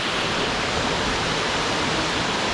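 Daranak Falls, a waterfall, roars as a loud, dense, unbroken rush of falling water heard up close, filling the whole clip with no voices.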